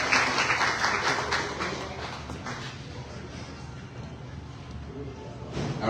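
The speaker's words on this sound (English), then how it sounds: "Big round of applause." Audience applause at a live sponsor introduction, dense clapping fairly close and steady, loudest at the start and easing slightly, with talk faintly mixed in under it.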